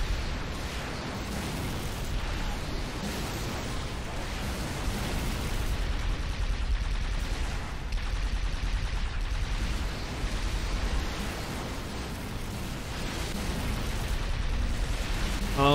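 Dense, continuous rumbling blasts from grenades in Halo 3, loud and sustained with overlapping booms and no clear pauses.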